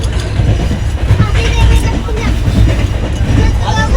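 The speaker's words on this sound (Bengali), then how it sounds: "দেখুন ট্রেনটা স্লো হয়ে গেছে, ঢুকছে আস্তে আস্তে" A passenger train slows as it pulls into NJP station, with a loud continuous rumble and clatter of wheels on track, heard from inside alongside background voices.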